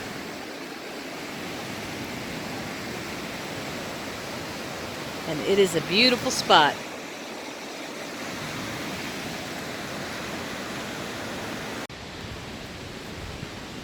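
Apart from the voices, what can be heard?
Kern River flowing water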